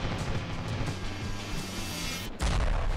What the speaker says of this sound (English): It's this C4 explosives. Check this stuff out.